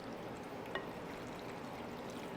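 Pasta and meat mixture pours from a bowl into a baking dish as a soft, steady wet sliding and trickling with one brief clink, close and fairly quiet, with no talking.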